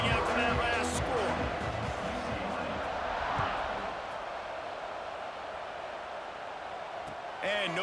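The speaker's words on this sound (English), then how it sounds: "this crowd is buzzing after that last score" A stadium crowd in EA Sports College Football 26 keeps up a broad, steady roar after a score, a continuous wash of cheering noise beneath a commentator's voice, swelling slightly at the start and end.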